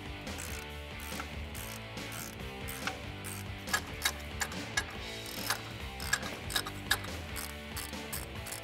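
A ratchet wrench with a 13 mm socket works bracket nuts loose on a Ford F-150 during a cold air intake install, sounding as rapid close clicking in repeated bursts with a few sharper ticks, no speech.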